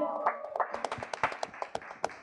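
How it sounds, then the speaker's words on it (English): Scattered, uneven clapping from a modest audience at a celebration for a web series cast and makers, individual claps popping out distinctly over murmuring voices, fairly quiet overall. "can we have a huge round of applause for all the makers and the cast of the trip?"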